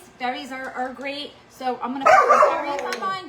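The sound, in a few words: dogs barking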